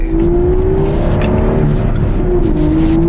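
Aston Martin V12 S engine downshifting, a loud, close, steady V12 drone with its pitch stepping down and settling, joined by a brief blip, with no voices.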